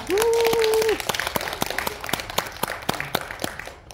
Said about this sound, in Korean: 자, 그럼 큰 박수로 우리 원장님 모시도록 하겠습니다.